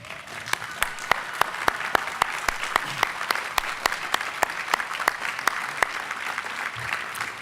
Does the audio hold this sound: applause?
yes